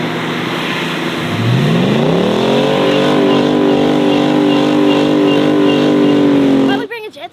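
A 4x4 engine revs up from idle and holds a strained, steady roar while towing another car on sand, loud and close before cutting off abruptly.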